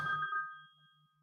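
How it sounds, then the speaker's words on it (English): A telephone ringtone chirps in a bright repeating pattern, starting loud with a brief burst of noise and then settling into steady evenly spaced rings that fade slightly, with no talking. "We're getting a phone call."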